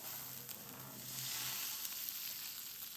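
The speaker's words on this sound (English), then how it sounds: "We got it hot and it's burning our butter." Butter sizzling and starting to burn in a very hot skillet, a steady bright frying hiss, close and even for a few seconds with no talking.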